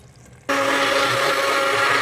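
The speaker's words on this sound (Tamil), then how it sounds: "இப்போ நான் தேங்காய் மிக்ஸ் பண்ணுவேன்." A mixer grinder whirs into life after a moment of quiet and runs loud and steady while grinding coconut, a dense continuous whine with no voices.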